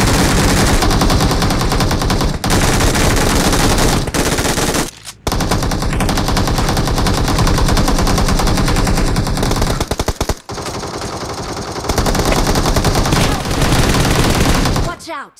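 Rapid automatic gunfire rattles through a shooter video game in the Icemire Frontier mode, long dense bursts broken by a few brief pauses, loud and close.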